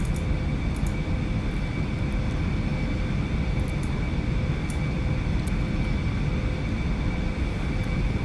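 General aviation aircraft climbing in the X-Plane flight simulator, a constant loud propeller-engine drone with a steady tonal whine that holds throughout.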